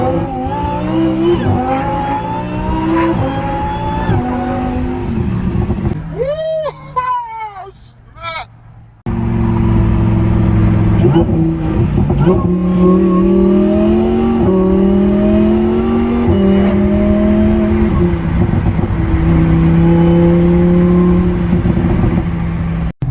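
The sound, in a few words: replica Lamborghini car accelerating and cornering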